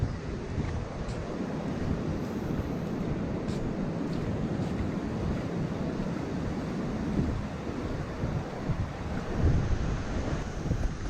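Ocean waves wash in at a beach after a hurricane, making a steady broadband roar mixed with wind buffeting the microphone, continuous and fairly loud.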